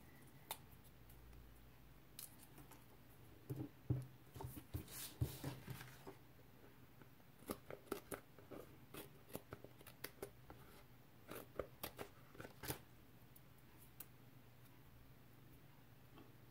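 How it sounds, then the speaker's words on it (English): Quiet, sparse snips and clicks, irregular and close, with pauses between bursts, like scissors cutting through paper. "I'm going to cut the extra pieces of paper"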